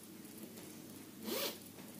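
A single quick zip on a hooded jumpsuit, one short rising rasp of the zipper about midway through, faint against a soft background hiss, with no talking.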